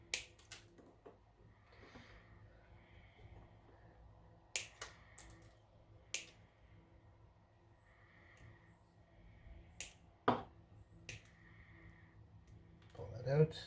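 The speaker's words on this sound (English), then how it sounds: "So that's why I like to have my little side cutters here. And then you're just going to trim the wires." Small side cutters trimming Cat 5e cable wires at an RJ45 jack, a scattering of crisp, close snips and clicks at irregular intervals, quiet, with a person talking between them.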